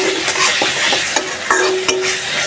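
Shrimp cooking down with spice paste in a hot pan, a loud, dense, close sizzle punctuated by several sharp spatula scrapes and taps.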